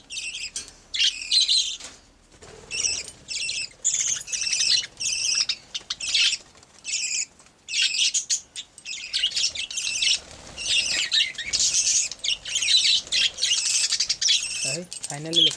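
A dense flock of birds chirps and tweets loudly and almost continuously outdoors on a playground while being fed grain, the calls overlapping in bursts with brief gaps and a faint voice now and then.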